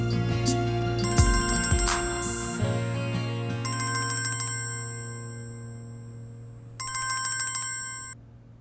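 A mobile phone rings for an incoming call, a bright electronic ringtone sounding in repeated bursts with pauses, clear and close in a quiet room.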